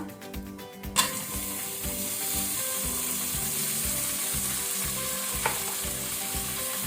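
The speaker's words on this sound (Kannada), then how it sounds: "ಪೊಟ್ಯಾಟೊ ಸ್ವಲ್ಪ ಶಾಲೋ ಫ್ರೈ ಮಾಡಬೇಕು." Potatoes shallow frying for pav bhaji in oil over a medium flame, with a steady close sizzle. A sharp clatter opens it, then a rhythmic scraping and stirring pulse continues throughout, with one brief knock midway.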